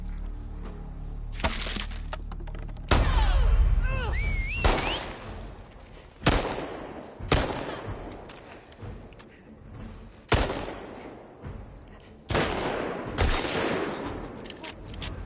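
Gunfire from shooting enemies in The Last of Us Part II Remastered: a run of loud, sharp shots spaced every second or two, each with a heavy thump and decaying tail, plus a brief scrape and light voice in the background.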